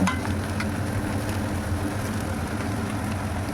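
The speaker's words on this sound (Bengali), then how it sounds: "এখন আবারও সব উপকরণ খুব ভালোভাবে মিশিয়ে দেব।" Pasta with vegetables, egg, chopped tomato and coriander is stirred in a hot pan, giving a close, steady sizzle with soft scraping from the utensil and a low background hum.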